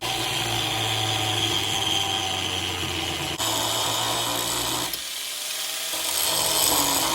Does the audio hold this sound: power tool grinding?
yes